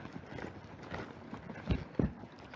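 Horse hooves during riding training, a series of dull clip-clop thuds on soft ground, a few of them heavier and close, in an uneven walking rhythm.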